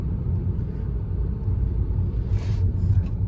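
A vehicle engine idling in second gear at around 1000 RPM with an uneven, misfiring feel, giving a loud, steady low rumble close by, with a brief higher whine near the end.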